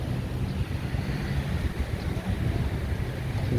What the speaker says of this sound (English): So I'm here at Jomtien Beach.